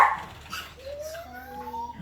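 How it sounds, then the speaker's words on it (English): A dog barks and yips in a backyard in Singapore, a short loud bark at the start followed by a rising, whining tone, with faint background sounds throughout. "I hear the dog barking."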